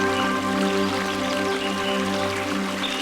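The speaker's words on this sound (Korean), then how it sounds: "귀를 기울이면 물방울이 바위에 부딪히며 맑고 청량한 소리를 만들어냅니다" Water droplets drip onto rocks beside a small trickling stream, a soft continuous patter with a steady tonal hum running underneath.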